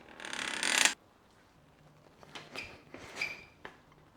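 A wrench turning cylinder head bolts through a 120-degree angle on a BMW E92 engine, a loud burst of mechanical grinding followed by faint scattered creaks and metallic clicks close by.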